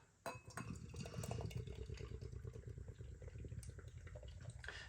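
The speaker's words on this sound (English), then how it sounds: "Beer in the glass." Vocation Incognito double IPA beer is poured from a can into a glass, a faint steady fizzing trickle of liquid with light glass clinks, close and quiet with no voices.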